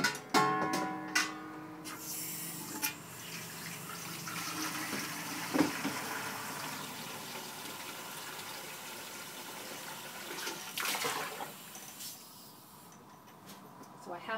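Tap water runs from a sink faucet into a container while measuring water for lye water in soap making, a steady low rush with short bursts and handling clatter, quiet and close.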